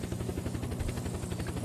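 Helicopter in the Unturned video game, its rotor making a steady, loud, rhythmic thumping that continues without pause throughout.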